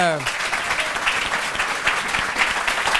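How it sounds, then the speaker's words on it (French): Studio audience at a French televised show applauding a guest comedian, a sustained dense clapping that starts right away and stays even and fairly loud throughout, with voices mixed in. "Je vous demande d'applaudir Charles Nemetz."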